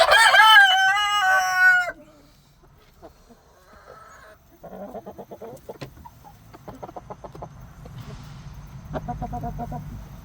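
A Cornish cross and American Bresse mix rooster crows loudly and close up, then the flock clucks in irregular bursts that build toward the end, with no talking.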